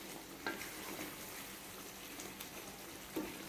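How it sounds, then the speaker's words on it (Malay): Chicken simmering in rendang spice gravy in a wok, a soft steady bubbling sizzle with a couple of faint stirring knocks, quiet and close. "Ayam ini perlu masak selama 10 minit"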